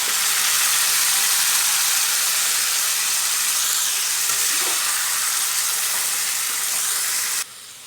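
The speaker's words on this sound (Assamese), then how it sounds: "এতিয়া মই মেৰিনেট কৰি থোৱা লোকেল চিকেনখিনি দি দিম।" Marinated local chicken sizzles and fries steadily in a hot pan, a loud, continuous hiss with no talk that drops off sharply near the end.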